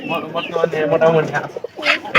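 A domestic pigeon in a home loft, recently ill and vaccinated, coos in low, throaty warbles. The cooing is close and fairly loud, with a person talking nearby.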